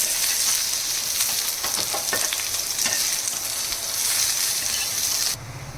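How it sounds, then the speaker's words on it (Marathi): Bitter gourd slices frying in oil on a pan over a gas stove, a steady close hissing sizzle throughout with faint crackles, cutting off sharply just before the end. "ह्याच्यावर आता तेल टाकायचं थोडं थोडं आणि खरपूस होईपर्यंत असं तळून घ्यायचं"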